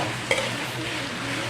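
Onion and tomato with a little salt being sautéed and stirred in a pan for Tamil Nadu style prawn masala, a short, steady sizzle with a single light scrape of the spatula.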